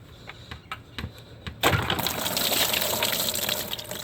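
Coolant drains from a 2013–2016 Dodge Dart engine into a pan. After a few light metallic clicks, a sudden close gush of liquid breaks out and keeps pouring steadily.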